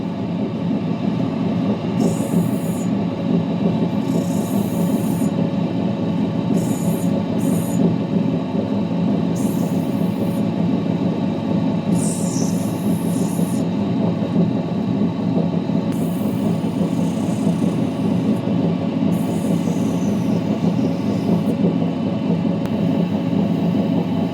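A lapidary grinding wheel runs steadily at close range, a continuous low hum and rumble, while a piece of boulder opal is cut, with intermittent brighter scraping and hissing bursts as the stone touches the wheel.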